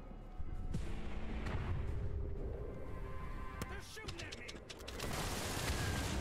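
Gunfire and artillery-like booms in the War Mongrels video game, a dense, loud wash of shots and rumbling blasts with sharp cracks scattered throughout, set amid a wartime scene.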